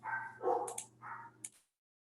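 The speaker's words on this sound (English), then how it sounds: "I had to go yell at the dogs who were barking at UPS trucks" Dogs bark at passing delivery trucks, a couple of close, loud yips and barks in quick succession, then quiet.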